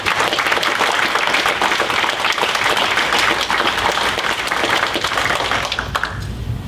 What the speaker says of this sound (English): So give a round of applause to our police department